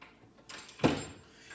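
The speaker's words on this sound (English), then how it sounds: "And then you'll need to open the door." A door on a baptismal font swings open during draining and sanitizing, giving a single close thump and rattle with a brief scrape around the middle, surrounded by quiet room tone.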